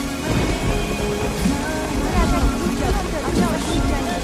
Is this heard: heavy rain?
yes